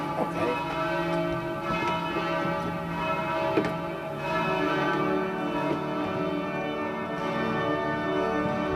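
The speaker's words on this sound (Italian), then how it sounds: "E lo proviamo ad ascoltarlo insieme alle campane." Church bells ring in a steady, sustained peal, their overlapping tones resonating continuously at moderate loudness with no talk over them.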